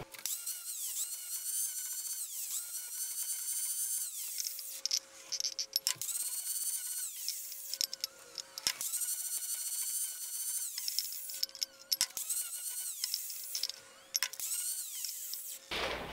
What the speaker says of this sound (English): I'm going to grind the high points down so I've got a nice level pot surface